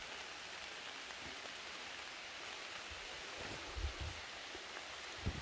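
Steady rain pours down in a deep forest during mushroom gathering, a dense continuous hiss with a few soft thuds of drops, and no voices.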